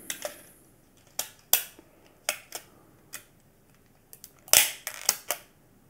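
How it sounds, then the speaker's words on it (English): Scissors or a blade snip through thin plastic packaging around a Polaroid instant camera, a run of sharp, close clicks and crackles spaced irregularly, several louder cuts standing out, no talking. "Don't worry, this plastic is not going to be reused for anything, so we can just cut right through it"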